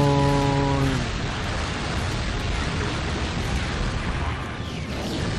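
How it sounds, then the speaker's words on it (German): A burst of broadband noise rumbles steadily after a short tonal chime fades, like a big explosion sustained for several seconds, in the video game Lego Star Wars II on PS2. "So, der Torstein explodiert gleich."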